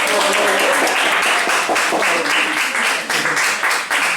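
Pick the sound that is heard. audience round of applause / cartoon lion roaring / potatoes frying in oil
audience round of applause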